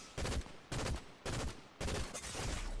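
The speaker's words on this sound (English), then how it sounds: "I'm pretty sure he shot my tires." Gunshots in the Fortnite game: four loud bursts of rapid fire in quick succession, each lasting about half a second with short gaps between.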